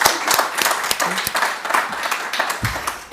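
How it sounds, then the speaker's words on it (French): An audience applauding at the tenth-anniversary event of the Laboratoire de l'Egalité, a short burst of brisk, fairly close clapping from a modest crowd that fades slightly toward the end. "on s'applaudit"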